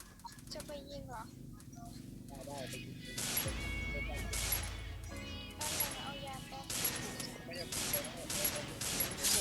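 Bursts of gunfire from a shooting video game, loud repeated volleys and single shots spread through the stretch, mixed with game effects while a voice talks over them.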